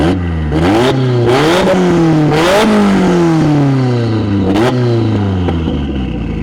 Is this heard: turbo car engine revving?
yes